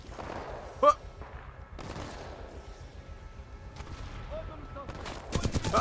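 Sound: gunfire in the video game Titanfall 2

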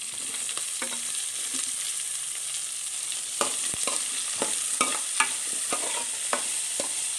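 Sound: onion and green chillies frying with ginger, garlic, coconut

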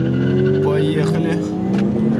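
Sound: VAZ 2109 race car engine hitting the rev limiter

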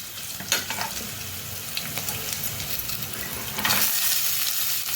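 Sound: garlic and onion sautéing in a pan

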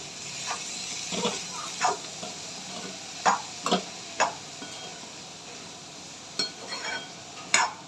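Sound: stirring ivy gourd and potato stir-fry in a pan

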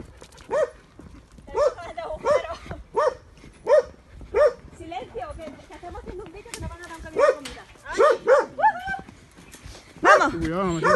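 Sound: dogs barking and whimpering at an animal shelter

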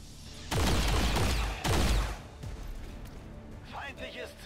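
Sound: gunfire in the video game XCOM 2

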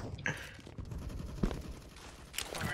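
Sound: P90 submachine gun firing in a video game

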